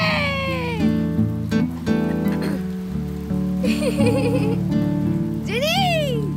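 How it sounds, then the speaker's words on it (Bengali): Rain falls steadily on outdoor surfaces as a continuous hissing patter. Whining, squeal-like animal cries and a voice rise over it at times. "বৃষ্টি হচ্ছে।"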